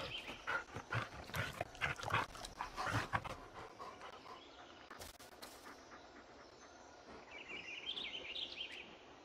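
Dog in the Blair Witch video game panting and moving about, moderately close, with faint bird chirps in the background and no talking.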